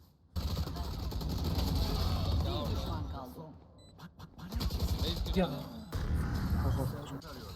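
Gunfire in the Valorant video game, a rapid burst of shots mixed under continuous talking from players, with a brief break before more sharp shots and chatter.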